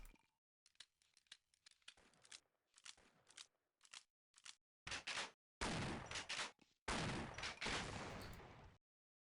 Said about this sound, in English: Actually, we'll try the shotgun.